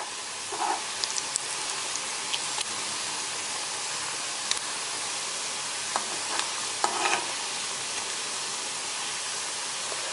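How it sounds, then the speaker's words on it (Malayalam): Beef pieces fry in oil for a Kerala-style beef pickle, giving a loud, even sizzle throughout, broken by a few brief clinks and scrapes of stirring. "ബീഫ് ഓൾമോസ്റ്റ് ഫ്രൈ ആയിട്ടുണ്ട്."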